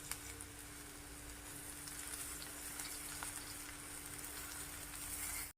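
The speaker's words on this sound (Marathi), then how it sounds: "मेथी आणि हे कांदा व्यवस्थित परतून घ्यायचे आपल्याला।" Fenugreek leaves and chopped onion sauté in a pan with a steady, faint sizzle and light crackle, close and continuous, with no talking.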